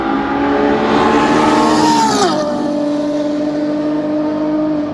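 A Ferrari Roma Spider's 3.9-litre twin-turbo V8 (F154, 620 hp) pulls hard under load, its rising engine note climbing then dropping through a gearshift and settling into a steady drone, heard loud and close.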